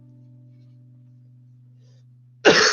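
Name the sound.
cough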